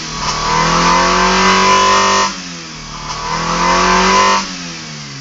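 A 1992 Mitsubishi Lancer with a 4G15 engine on Megasquirt engine management revs up loudly and close, twice in succession, each rise held briefly before dropping back toward idle.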